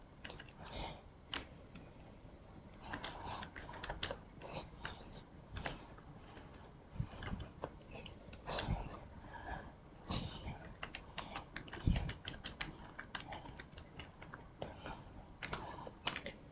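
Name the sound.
typing a printf statement on a computer keyboard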